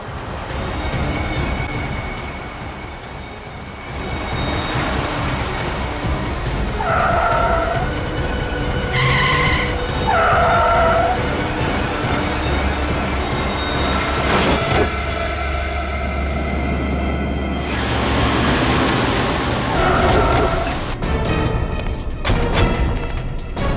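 A car driven recklessly skids and swerves, tyres screeching in bursts over a steady engine drone, with a low rumble building midway; tense and close, no talk.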